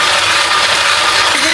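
A mixture being whisked up close, a loud, steady whirring churn with a rattling mechanical edge that runs unbroken through the whole short moment, with no talking.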